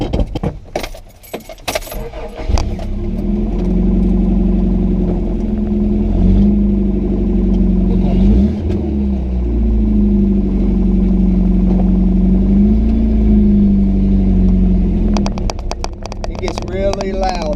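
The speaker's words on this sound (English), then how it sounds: "This is a 1986 Toyota four-wheel drive pickup, and the muffler is completely jacked," A rough, loud 1986 Toyota four-wheel-drive pickup engine with a broken muffler idles with a deep, throaty rumble and rattling, steady for a long stretch with brief revs and a voice at the start and end.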